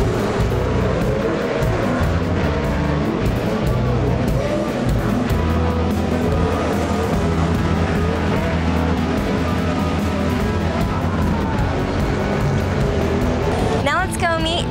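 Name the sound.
midget race cars racing at Ventura Racetrack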